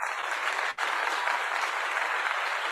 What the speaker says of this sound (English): Let us give them a virtual round of applause.